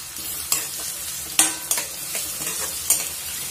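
Curry leaves stirred in a frying pan for a tomato and okra curry, a steady close sizzle broken by several sharp scraping clicks of the spoon against the pan, with no voices.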